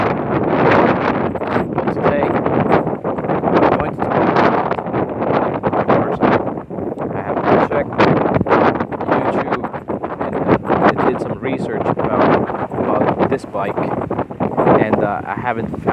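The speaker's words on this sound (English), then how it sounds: "I hope you can hear me well, in spite of this strong breeze." Someone talks continuously outdoors beside a Yamaha Mio Soul i 115 scooter while gusty wind rumbles against the microphone, a steady low buffeting under his voice.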